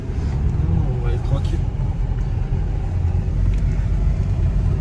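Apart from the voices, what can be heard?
Peugeot 3008 SUV accelerating hard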